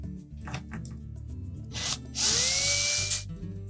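Power drill with a T15 Torx bit backing hinge screws out of a Whirlpool washer lid: faint taps and handling noises, then a loud high whirring run of about a second that winds down.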